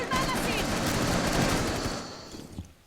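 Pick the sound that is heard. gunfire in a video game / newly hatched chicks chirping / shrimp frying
gunfire in a video game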